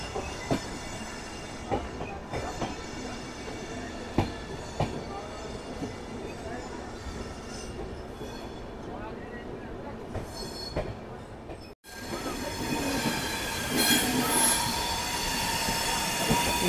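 The Bhubaneswar Express running from Delhi toward Kanpur: a continuous loud roar of wheels on rails with periodic clacks at the joints and squealing, heard from on board, brightening as the sound opens up partway through.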